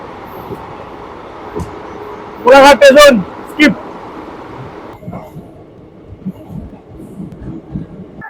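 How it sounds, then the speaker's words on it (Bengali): On board the Sri Jagannath Express, a passenger train from Shalimar to Puri, a low rumble runs throughout, with a cluster of brief loud tonal blasts near the middle and a voice speaking over it. "ট্রেন কিন্তু ছ মিনিট লেটে এসে পৌঁছালো সাঁতরাগাছি জনসনে"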